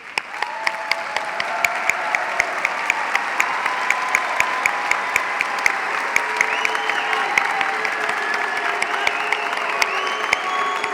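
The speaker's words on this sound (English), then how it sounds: "graduates, please stand up and applaud your families, your faculty, the staff, and all of Boise State" Sustained audience applause fills a graduation commencement ceremony at Boise State, a dense, steady wash of many hands clapping at moderate loudness with a few sharper claps standing out, and no talk over it.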